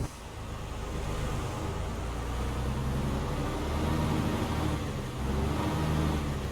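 A Cat C7 diesel engine in a Kenworth T300 side dump truck idles steadily nearby, a low rumbling drone that holds even throughout with a slight rise and dip near the end.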